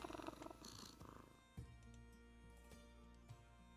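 A cat named Meow in a video game purrs softly and steadily, quiet and close, beneath faint musical tones.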